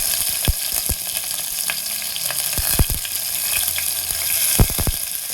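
Green chillies hit hot oil for uppittu with a steady crackling sizzle, punctuated by several sharp spoon clinks against the pan, close up with no talking.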